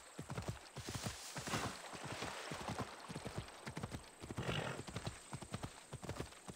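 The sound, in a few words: horse hooves galloping in a video game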